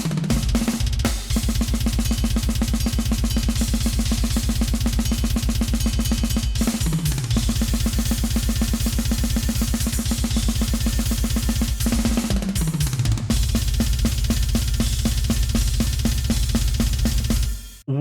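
Drums from a drum library with preset processing, a loud full kit pattern with punchy kick, snare hits and cymbals playing continuously for about seventeen seconds with brief fills, no talking.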